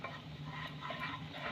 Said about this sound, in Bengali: বেসনটা আমি ঘিয়ের সাথে খুব ভালো করে ভেজে নেব